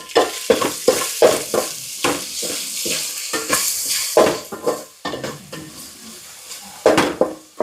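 A spoon stirs chili powder and ginger garlic paste into fish in a pan for Andhra fish curry, rhythmic loud scraping strokes over a low sizzle, close up and without speech.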